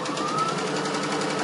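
A Brother Innovis A16 computerised sewing machine runs at steady speed, a continuous close, fairly loud rapid mechanical whir with a fast even stitching rhythm.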